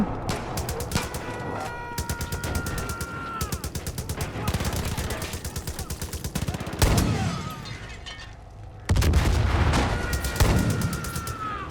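Dense automatic gunfire in the video game Far Cry 5, with rapid crackling bursts and brief pauses running throughout. A voice is occasionally heard under the shots.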